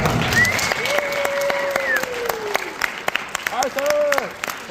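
An audience at a live talk applauds loudly for a speaker, with sharp claps, high whistles and shouted cheers layered over the clapping.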